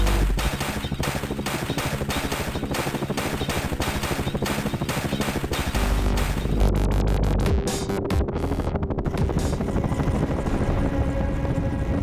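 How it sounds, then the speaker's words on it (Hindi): Russian-made Mi-25/Mi-35 military attack helicopter in flight, a loud steady rotor throb with rhythmic thumping and engine whine that rises and churns, running continuously without talk. "80 और 90 के दशक में भारत के इस स्क्वाड्रन में रूस के बने Mi-25, Mi-35 हेलीकॉप्टर शामिल थे"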